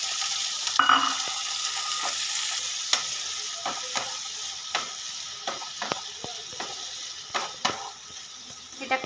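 Two medium tomatoes, chopped small, frying with ginger in a pan: a steady, close sizzle broken by occasional spoon clicks and scraping stirs.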